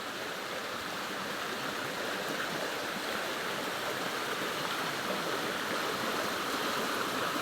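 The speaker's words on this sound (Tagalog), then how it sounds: "Oo naman po ang sapa dito." Continuous rushing of a flowing creek of very cold water, loud and close, with a dense, even splashing roar that runs unbroken throughout and no voices.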